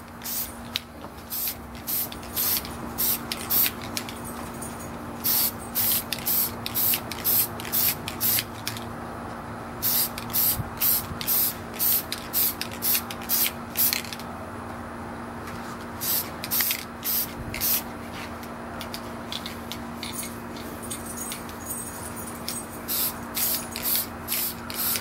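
Short hissing bursts of aerosol spray lay a flat dull coat finish onto a model tank. The strokes come in quick clustered groups with brief pauses, over a faint steady background hum.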